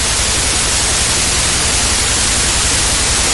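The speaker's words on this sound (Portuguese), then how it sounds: "Não, ruído branco. É o ruído branco." Loud, steady television white-noise static filling the whole stretch, the hiss that follows the end of a broadcast, alone with no voices.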